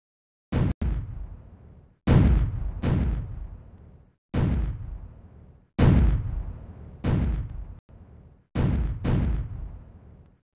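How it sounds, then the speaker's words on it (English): Seven sharp booming bursts go off one after another at uneven intervals, each followed by a short fading crackle, with nothing else heard between. "Watch the fireworks show"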